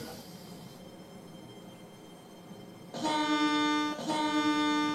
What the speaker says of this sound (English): Another train coming through.